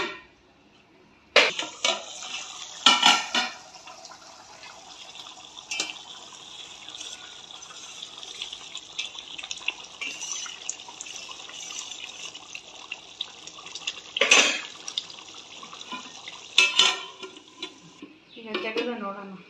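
A pot of spicy fish sambar masala simmers steadily, with a soft continuous bubbling hiss broken by a few sharp clinks of a ladle or lid against the metal pot.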